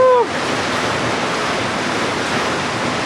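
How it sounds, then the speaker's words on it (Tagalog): Heavy rain driven by wind during a storm makes a steady, loud, dense roar throughout, opening with a brief whistle-like tone. "Napakalakas ng ulan."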